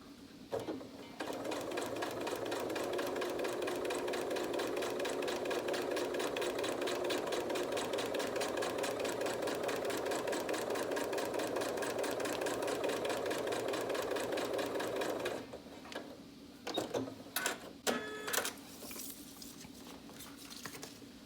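A sewing machine with a 3mm stitch length stitches through vinyl, running in a steady, fast mechanical patter for about fifteen seconds before stopping, followed by a few short bursts and clicks.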